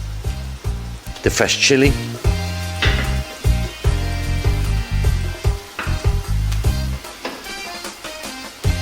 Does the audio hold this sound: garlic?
yes